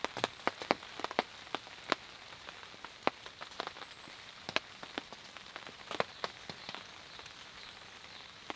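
Rain falling in a forest at a bushcraft camp, scattered drops ticking and pattering sharply and unevenly on nearby surfaces over a soft steady hiss, with no talking.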